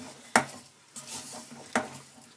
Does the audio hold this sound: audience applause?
no